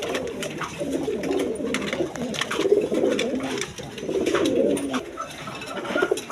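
A pair of German Beauty pigeons coo in a loft, the low throaty calls rolling on in repeated bursts, close and fairly loud, with faint ambient clatter behind.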